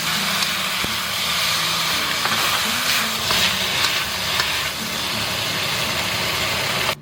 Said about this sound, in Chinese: 这个时候我们再把这个配料给它倒下去，然后左手拿着酱料，右手拿着铲子，